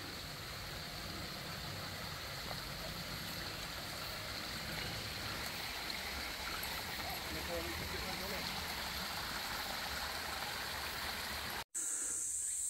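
A river flowing through a forest on a Shikoku pilgrimage trail, a steady broadband rush of water that stays loud and continuous throughout before a brief cut near the end.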